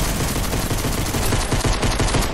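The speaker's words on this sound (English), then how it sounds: "I'm gonna get him with the pistol." Pistol fire in the Fortnite Season 8 video game, a dense, loud, continuous barrage of shots filling the whole moment with no pauses and no talk.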